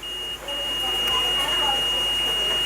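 A multimeter set to its buzzer continuity range gives a thin, high, sustained beep, steady for most of the moment and briefly cut near the start, while checking a Philips home theatre power board.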